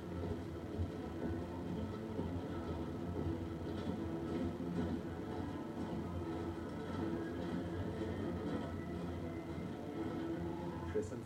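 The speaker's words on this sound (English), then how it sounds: "The train slows, then stops." A train slows and comes to a halt, a low, steady rumble of rolling carriages at moderate distance that stays fairly even throughout.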